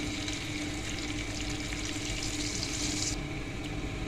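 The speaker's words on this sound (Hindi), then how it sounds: "इनको हम थोड़ा सा फ्राई करेंगे ताकि ये कड़कड़ाने लग जाए" Cumin seeds fry over medium-low heat in a pan for green chilli pickle, a steady, fairly quiet sizzle with fine crackle running throughout.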